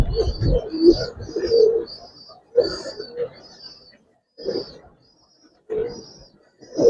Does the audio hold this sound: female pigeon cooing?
yes